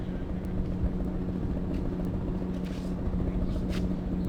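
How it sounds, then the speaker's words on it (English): Helicopter passing overhead on a morning flight over the reef near a waterfront esplanade, a steady low rotor and engine rumble that stays loud and continuous throughout, with faint outdoor noise. "There's a chopper coming over, look at it."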